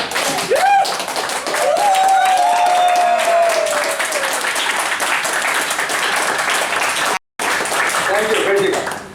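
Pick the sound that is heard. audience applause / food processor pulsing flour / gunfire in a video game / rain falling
audience applause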